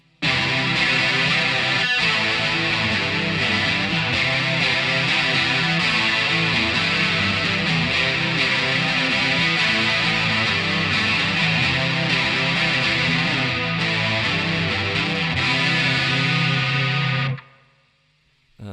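Dense, distorted electric guitar chords ring out continuously with a chorus-like shimmer, loud and steady, then stop abruptly near the end.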